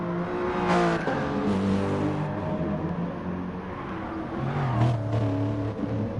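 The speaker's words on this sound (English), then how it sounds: "it gives us a little bit of demonstration of the Lexus's drift" Lexus race car drifting at the Mount Panorama Motor Racing Circuit, engine revving up and down with brief tire squeal and skidding bursts, loud and close among other race car engines.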